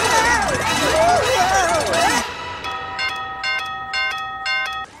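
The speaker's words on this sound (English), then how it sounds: "the doorbell ring was enough to get your attention" Cartoon doorbell chiming in a Felix the Cat Christmas short, a quick series of bright, repeated ding tones after a burst of lively music and voices.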